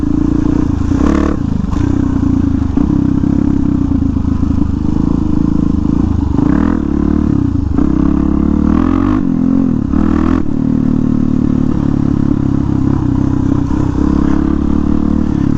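An off-road motorcycle ridden hard, its engine droning loudly and continuously close to the rider, with revs rising and falling, bursts of throttle and clattering over rough terrain.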